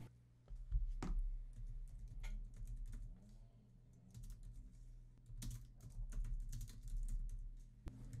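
Keys clatter on a computer keyboard as a title is typed into image-editing software, a close, steady run of taps with a few louder strikes over a low background hum.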